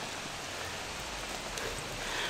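Steady rain falling in a quiet spot, a continuous even hiss of drops close by with no talking.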